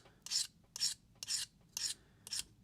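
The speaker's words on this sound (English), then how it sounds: "I'm just going to hit this with a stone. Try and match that angle." An awl is sharpened by hand on a Lansky diamond stone in five separate short rasping strokes at an even pace, near and fairly quiet.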